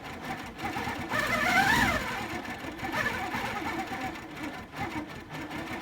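A sit-down quilting machine free-motion stitches pebble shapes in a continuous, fairly fast mechanical hum that rises and falls slightly as the speed changes, while a person talks over it.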